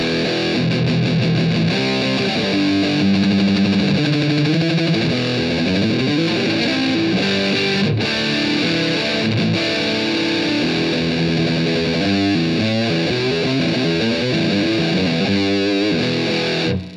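Crunchy distorted budget electric guitar playing chords and riffs for a long stretch, with mids reduced giving a slightly hollowed, thinner tone and no talking.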